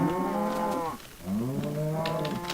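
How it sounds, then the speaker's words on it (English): Minecraft cows moo in long, loud, close calls, one low moo followed by another after a brief quiet gap. "Shut up, cows."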